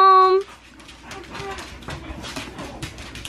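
A pet dog lets out a short, high whimper at the start, then pants and snuffles softly at close range while someone talks over it indoors at home.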